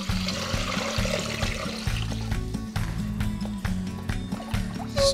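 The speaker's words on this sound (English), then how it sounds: "Then we have our short rib broth here, which I'm going to pour into the cooked-down base." Short rib broth pours steadily into a pot of cooked-down tortilla soup base, a continuous liquid gush with splashing, with music playing underneath.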